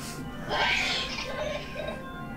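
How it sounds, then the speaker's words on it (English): A single sneeze bursts out nearby at a wedding, sharp and breathy, followed by a brief quieter trailing sound. "Who sneezes at a wedding?"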